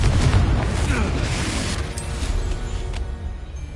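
A Confringo fire spell exploding in Hogwarts Legacy: a loud, booming burst that rolls into a crackling, fading rumble with a couple of sharp pops near the end.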